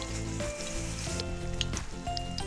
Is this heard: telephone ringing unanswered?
no